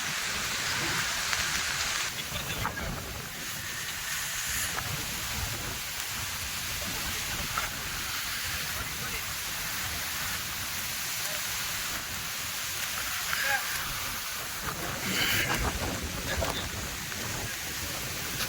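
Steady, dense rainfall with strong wind roars throughout, a broad wash of noise with gusty swells, and faint voices occasionally underneath.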